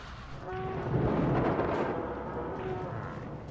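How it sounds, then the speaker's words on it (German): Rain falls in the Jurassic Park Operation Genesis video game as a steady, soft hiss with a low rumble beneath it and brief tonal game sounds over the top. "Es regnet."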